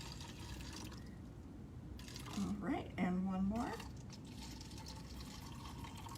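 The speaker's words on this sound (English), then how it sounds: "Just make sure you're putting in the same amount of water." Water trickles and gurgles as it is poured into cups, a faint steady stream under a brief spoken remark, with a rising glugging pitch as a cup fills.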